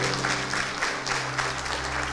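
Short burst of congregation applause during a church sermon, steady, fairly faint clapping that holds evenly under a low background hum.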